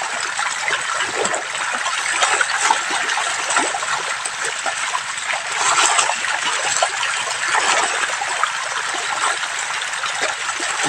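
Milkfish feeding in an aquaculture pond make continuous splashing and churning water, a steady busy wash of splatter with no voices.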